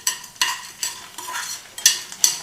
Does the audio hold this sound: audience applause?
no